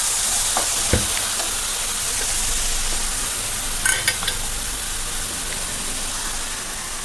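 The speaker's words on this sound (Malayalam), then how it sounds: "ഒന്ന് ഇളക്കി" Ground coconut paste is stirred into a fish curry in a pan, giving a steady close sizzle and hiss with a few soft spoon taps against the metal.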